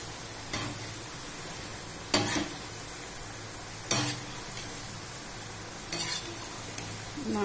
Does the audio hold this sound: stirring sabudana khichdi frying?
yes